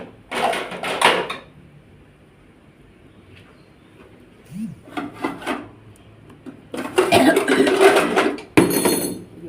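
A ladle scrapes and clinks against pots and dishes in short bursts while serving chicken soup, separated by quiet pauses.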